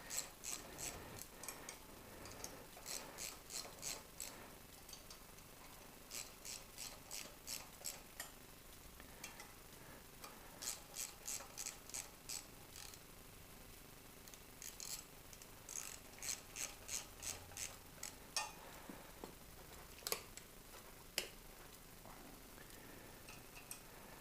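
Ratchet tightening the rear sprocket nuts on a DRZ 400 motorcycle during a chain and sprocket replacement: quiet, rapid clicking in repeated short runs with brief pauses between them, close by with no talk.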